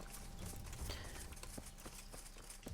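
Horse hooves clip-clop at a steady walking rhythm in the medieval game Kingdom Come: Deliverance, moderately quiet and close, with no talking over them.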